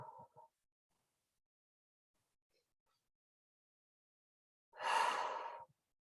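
Two deep breaths: a short breath at the start, then near silence, then a long, airy exhalation of nearly a second, close and clear with no talking.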